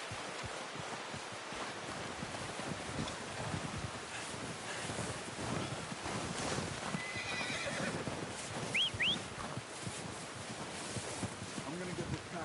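A horse in Red Dead Redemption 2 whinnies among soft clip-clopping hooves and outdoor wind, with voices talking faintly over the quiet, steady ambience.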